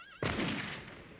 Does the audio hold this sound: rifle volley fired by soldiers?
yes